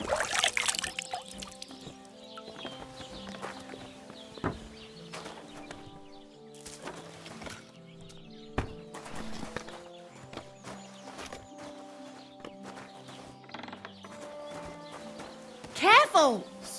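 Horse hooves clip-clopping in the medieval video game Kingdom Come Deliverance II, a quiet, irregular patter of hoofbeats under game music and frequent spoken dialogue.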